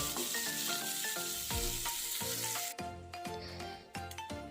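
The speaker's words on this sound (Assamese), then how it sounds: "এইখিনি জাষ্ট 1 মিনিটৰ কাৰণে ভাজি ল'ম।" Vegetables fry in a pan of hot oil for a short spell, a steady close sizzle with soft bursts and the scrape of stirring, no voices.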